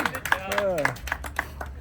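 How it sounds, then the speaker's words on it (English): Applause for David Willis on a history tour of Rome, Georgia: a few people clapping irregularly nearby, sparse and uneven, with a voice speaking and a whoop over the claps. "I'll give David a big round of applause."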